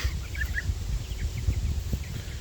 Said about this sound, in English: so those are the chickens.